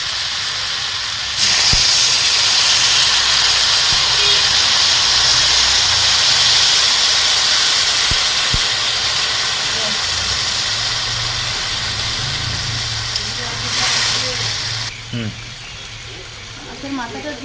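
Papaya sizzles in a frying pan as a little water is poured in, a loud steady hiss throughout, with a voice talking over it near the end.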